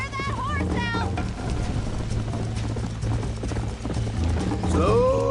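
Galloping horse hooves in the Red Dead Redemption video game, a steady rapid clip-clop running throughout at close range with a low rumbling score beneath and a brief whinny near the end.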